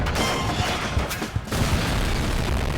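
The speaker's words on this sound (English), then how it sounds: "Barrel explosion, which was a miniature." A miniature barrel explosion staged as a film special effect, heard as a loud, dense, rumbling blast with a sharper burst near the middle, sustained across the whole clip.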